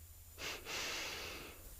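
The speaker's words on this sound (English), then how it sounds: "Inhale with a double breath as you bring the arms up, and exhale with a double breath when you bring the arms down." A double breath during a Yogananda energization exercise: two quick, close inhaled puffs run into a longer breathy rush of air, soft and near with no talk over it.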